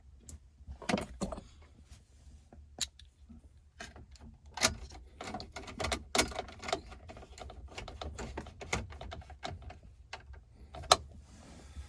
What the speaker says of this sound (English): we can just slide our new one back in place. It'll clip in.